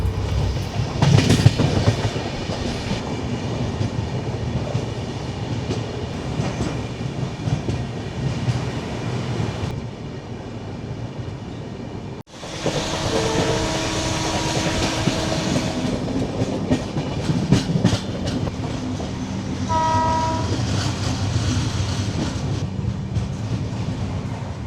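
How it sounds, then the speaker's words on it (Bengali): A train rolls along the rails into Hirakud station on the Titlagarh route toward Kolkata, with a steady clickety-clack, a brief break midway, then wheel rumble and faint squealing tones as it slows on arrival. "ট্রেন এসে পৌঁছালো হীরাকুদ স্টেশন"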